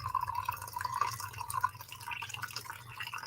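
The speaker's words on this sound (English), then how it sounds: "Pouring some more buttery caramel coffee into this cup" Buttery caramel coffee poured into a cup, a quiet close liquid trickle with a gentle rising fill tone over a few seconds.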